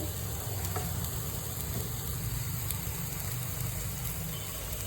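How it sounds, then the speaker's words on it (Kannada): Mutton frying in masala for biryani, a steady low sizzle that holds evenly throughout with no talking over it. "ಮಸಾಲೆ ಫ್ರೈ ಆಯ್ತಂತೆ ಇವಾಗ ಅದಕ್ಕೆ ಮಟನ್ ಹಾಕ್ತಾಳಂತೆ"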